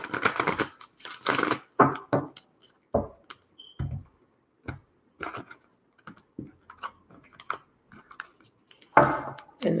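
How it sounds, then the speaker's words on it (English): A tarot deck is shuffled and cut in quick bursts of riffling and soft slaps, with short pauses between, close to the microphone. "I'm just doing a quick shuffle, cutting the deck to clear the energy"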